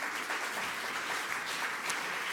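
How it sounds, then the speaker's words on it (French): A gala audience applauding the winners of an entrepreneurship competition in Montréal, a brief, fairly soft and even patter of clapping from a crowd. "On peut les applaudir. Bravo."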